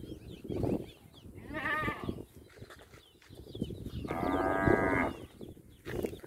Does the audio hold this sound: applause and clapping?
no